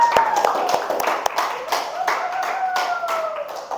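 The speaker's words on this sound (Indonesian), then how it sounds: "Oke, tepuk tangan dulu." A school class claps hands together in a classroom, a burst of sharp individual claps and taps that carries on unevenly, with voices chattering underneath.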